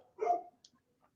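A dog barks once, close and fairly loud, followed by a faint brief yip and then quiet.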